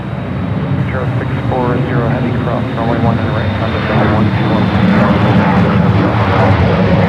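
An airliner arriving for landing on runway 19 left at San Francisco airport produces a loud, continuous engine roar close by, and a voice talks over it throughout.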